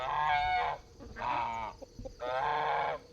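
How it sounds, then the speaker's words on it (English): Farm geese honk in loud, close bursts of nasal calls, three clusters separated by short pauses with light shuffling between them. "Let's go visit the geese."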